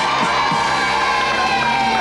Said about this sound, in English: Shall we give Claire a nice big clap